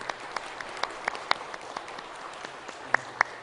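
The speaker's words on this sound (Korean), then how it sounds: "박수로 환영해 주셨으면 좋겠습니다." Church congregation claps to welcome the county governor at a Sunday service in Pyeongchang, a sparse and fairly quiet scattering of individual claps, a few sharper ones standing out near the end.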